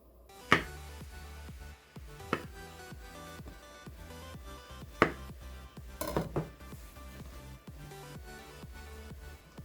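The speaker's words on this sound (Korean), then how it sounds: "저는 버섯을 좋아해서 하나 더 자를게요" Knife cutting mushrooms on a cutting board for a doenjang-sauced pork neck steak, with a few sharp chops among quiet, steady board taps and soft kitchen background.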